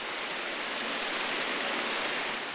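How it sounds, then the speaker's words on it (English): Water rushes beneath a road near the Linn Cove Viaduct on the Blue Ridge Parkway, a steady broadband hiss like a stream or small waterfall, constant and unbroken with no voices. "You can hear the water running underneath the road through there."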